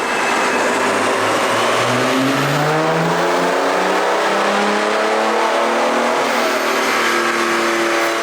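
A highly modified BMW E60 M5 revs hard on a dyno, its engine note climbing steadily in pitch through a long, loud pull with no talk over it.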